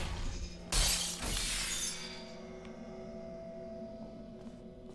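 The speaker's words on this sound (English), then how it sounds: "Glass breaking." Glass shatters loudly in the video game Portal 2, a sharp crash with a second smaller burst and tinkling shards, then a steady electrical hum lingering afterward.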